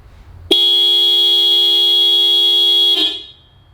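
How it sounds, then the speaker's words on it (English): A stock Subaru car horn sounds in one steady, loud, unbroken blast of about two and a half seconds, then cuts off and fades. "now we'll do a 3-second burst of the stock horn"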